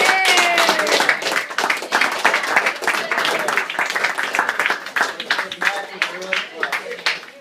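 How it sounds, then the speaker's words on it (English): At a summer series awards ceremony, competitors get a round of applause: scattered claps from a modest group, uneven and bursty, mixed with voices cheering and chatting throughout. "just give a round of applause to your competitors this summer"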